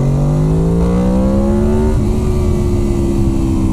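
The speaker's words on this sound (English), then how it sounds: "let's go ahead and hit VTEC and show you that transition" A Honda VFR800 motorcycle engine, freshly dyno tuned, revs steadily upward through its VTEC transition, loud and close with a rising pitch that shifts smoothly and then holds.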